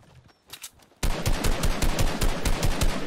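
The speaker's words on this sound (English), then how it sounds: "How did I miss all those shots?" Gunfire in the video game Fortnite starts as a few scattered shots, then turns into a loud, rapid burst of repeated fire that runs steadily to the end.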